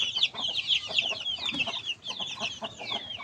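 Crossbreed Siamo chickens cluck and chatter close by in quick, overlapping calls, with a few louder squawks rising above the flock.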